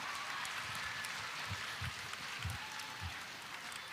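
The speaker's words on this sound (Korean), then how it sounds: "수고해주신 이교구 분들께 다시 한번 큰 박수 부탁드립니다." A church congregation at Gwangeun Church applauds after a district group's stage performance, a steady, even wash of many hands clapping together, somewhat distant and moderately quiet throughout.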